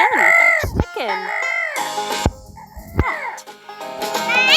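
Playful chicken calls from a kids' farm-animal stacking game repeat in short bursts with brief gaps, loud and close against cheerful game music.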